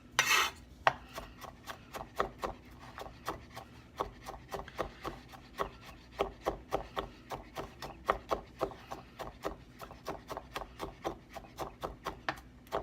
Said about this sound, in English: And then cut it again. Just dice it.